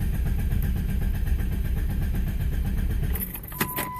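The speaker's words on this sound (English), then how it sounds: "It cranks but it won't turn over." A 1997 Jeep engine cranks without catching after a crankshaft sensor replacement, giving a steady, loud, rhythmic starter churn for about three seconds before it cuts off, followed by a brief metallic jingle.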